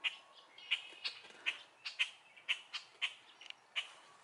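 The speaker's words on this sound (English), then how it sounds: "There's a bird." Several birds chirp outdoors near a small structure, with sharp repeated calls coming in a steady rhythm about twice a second, fairly close and clear over a quiet background.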